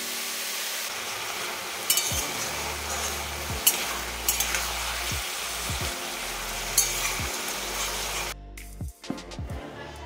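Cabbage curry cooks in a pan on the stove, with a continuous sizzle and frying hiss broken by repeated scraping strokes of a spatula stirring. Near the end the sizzle suddenly cuts out.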